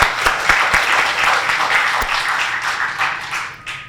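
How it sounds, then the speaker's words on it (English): An audience claps in an amphitheatre session at Riverside Regional Park, with a dense burst of applause close by and loud that gradually thins and fades. "Please give them a warm round of applause."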